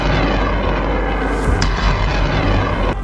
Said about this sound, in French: Les roquettes HIMARS frappent la position, déclenchant une explosion massive des munitions.